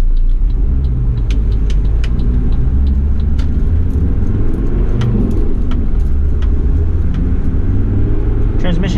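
A 1991 Toyota Land Cruiser PZJ70 diesel 4x4 driving on surface streets, a steady low engine rumble and road noise from inside the cab with occasional light rattles and clicks, continuous and close.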